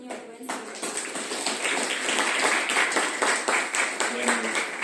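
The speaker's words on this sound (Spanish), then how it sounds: "Por favor, recibamos con un fuerte aplauso a nuestro invitado, el señor Rubén Silva." An auditorium audience applauds a guest speaker being welcomed, producing dense, sustained clapping with sharp individual claps that continues steadily throughout.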